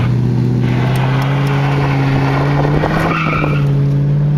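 Car tires skidding and squealing as the car moves from gravel onto asphalt, a loud sustained screech with a steady engine drone beneath, continuous throughout with no talking.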